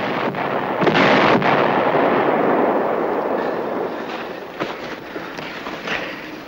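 American artillery barrage in a World War II combat scene, a dense continuous rumble of distant gunfire and explosions with a few sharper reports standing out, loud and sustained throughout.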